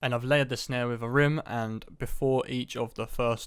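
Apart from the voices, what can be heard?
None of the usual background noises is heard.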